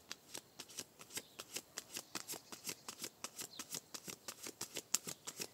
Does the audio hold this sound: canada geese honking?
no